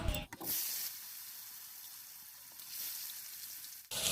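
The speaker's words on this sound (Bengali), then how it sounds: "বন্ধুরা এবার আলুগুলো ভেজে নেবো" Potatoes frying in hot oil in a wok give off a steady, loud, close sizzle that runs almost unbroken, swelling slightly near the end and stopping abruptly.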